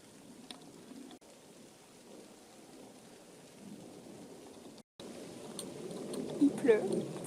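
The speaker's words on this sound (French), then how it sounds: "Il pleut." Rain falls steadily in a soft, hissing wash with low thunder-like rumbles underneath, continuing after a brief cut and growing a little louder with some closer drips and knocks near the end.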